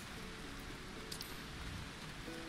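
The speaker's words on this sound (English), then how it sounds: "These people are loving the rain." Steady rain falling in the video game Final Fantasy XIV, a continuous soft hiss of drops on surfaces with faint background game sounds and no talk.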